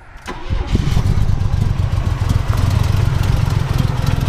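A Chevy S10 Blazer's 4.3 engine, troubled by sputtering and irregular fuel pressure, cranks briefly and fires, settling into a rough, uneven idle with a low pulsing rumble close by.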